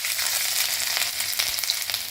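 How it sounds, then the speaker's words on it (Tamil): Cumin, ginger and garlic fry in a mix of ghee and oil for restaurant-style dal fry, a bright, steady, close crackling sizzle with no talk. "நல்லா ஃப்ரை பண்ணணும்"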